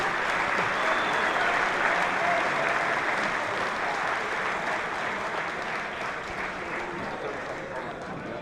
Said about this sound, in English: Ladies and gentlemen, let's have a round of applause for our Parade of Champions.